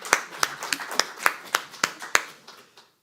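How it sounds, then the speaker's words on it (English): A small audience gives a brief round of clapping at a sound healing meditation session, about eight distinct sharp claps spaced evenly over a few seconds, close and sparse, then fading to quiet. "Let's give him another big round of applause."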